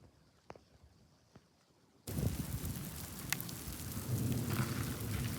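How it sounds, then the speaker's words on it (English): A countryside thunderstorm outside Corson, South Dakota: a quiet stretch with a few faint knocks, then rain suddenly bursts in loud and dense, a steady roaring downpour close by for the rest. "See, storms can just pop up out of nowhere"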